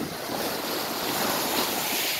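Sea waves washing onto Hamlet Beach in Antalya, a steady, fairly loud rush of surf with wind noise and no voices.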